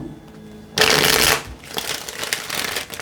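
A tarot deck is shuffled close by in a loud riffle burst, then softer repeated shuffling rustles continue.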